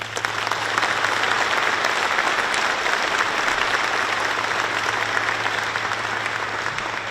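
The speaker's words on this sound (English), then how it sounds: "I would like to ask you for a round of applause for our guests" Audience gives a round of applause for guests at a state economic development announcement, steady dense clapping from a large room, loud and even throughout with a low hum beneath.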